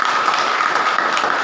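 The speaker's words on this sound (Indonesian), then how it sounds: "Oke, tepuk tangan." Students in an Indonesian classroom applaud after a classmate finishes explaining human rights, a steady, fairly loud burst of clapping throughout.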